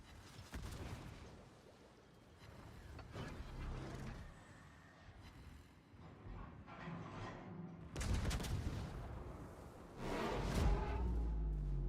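Naval guns fire at an enemy warship in World of Warships in repeated booming salvos, heavy and loud, separated by quieter stretches of engine and ambient rumble.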